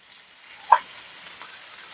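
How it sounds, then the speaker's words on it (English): Scallops hitting a hot frying pan give a steady high hiss of sizzling oil, with a single brief louder crackle, close and alone for a couple of seconds. "Nice sizzle, so I warmed up my pan nicely."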